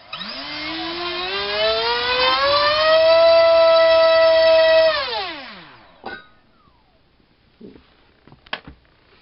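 An Rcinpower G2306 2200kv brushless motor spinning a DYS 6x4.5 bullnose prop on a thrust test winds up to a loud, rising whine, holds at full throttle, then spins down and stops, followed by a few faint clicks and knocks.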